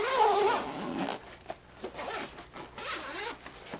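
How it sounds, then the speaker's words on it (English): A top zipper being pulled open on a fireproof ORTUR laser engraver enclosure, a loud rasping zip at first, then several softer, uneven zipping tugs close by. "Let me go ahead and unzip this using this top zipper right here."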